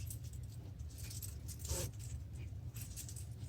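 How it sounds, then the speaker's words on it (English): A metal zipper is folded in half, giving soft jingling clicks of the metal teeth and a brief louder rustle midway over a low background hum. "So fold the zipper in half"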